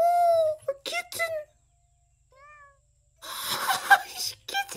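A kitten in the Garden Paws game gives a few bright meows, one soft and brief in a quiet gap, while a person talks excitedly around them.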